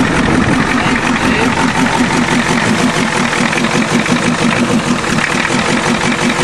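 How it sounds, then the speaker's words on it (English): A diesel Ford truck idles on a farm just after starting. The engine gives a loud, steady, close knocking rumble with an even rhythm, and a faint voice can be heard now and then. "Oh, there she goes. Yep, she's idling."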